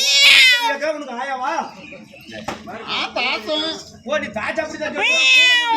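During a Tamil folk stage play, Arjunan Kuravanji, a performer's voice imitates a cat with a run of drawn-out, wavering meows and cries. It is close and fairly loud, mixed with vocal sounds.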